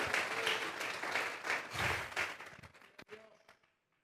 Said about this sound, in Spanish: Regálele fuerte esas palmas al Dios de la gloria.